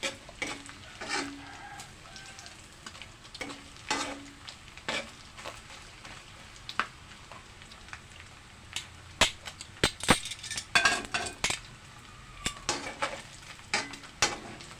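Bacon fries in a pan, giving steady faint crackle and sharp, irregular spattering pops that cluster and grow louder toward the end, with no talking.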